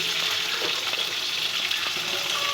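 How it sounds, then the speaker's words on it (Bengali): Pumpkin, carrot and papaya sautéing in oil with bay leaf and dried chilli for khichuri: a steady, continuous sizzle close by with faint stirring scrapes and no talk. "হালকা করে কষে নেব।"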